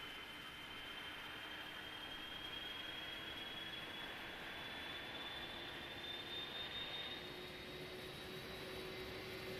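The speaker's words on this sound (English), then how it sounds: "That's the right engine spooling up there." Right engine of an airliner in a flight simulator game spooling up, a steady whooshing roar with a thin tone slowly rising in pitch throughout, fairly quiet and even, no talking.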